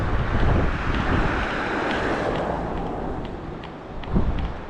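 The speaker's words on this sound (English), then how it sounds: "Nice big waves today." Big sea waves and gusting wind at the seaside beside the Staincliffe Hotel in Hartlepool, a continuous loud roar of surf and wind buffeting the microphone, with a surge near the end.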